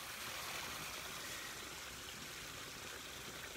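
Meltwater from melting snow runs in a steady, soft stream along a snowy hiking trail near Rigaud, Quebec, a continuous faint wash of flowing water with no voices.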